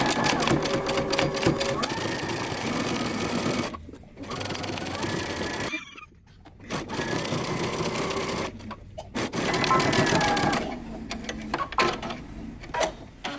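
A sewing machine runs a 5/8-inch seam up the front of a moto jacket in long, steady bursts broken by short pauses, with a voice heard briefly between runs.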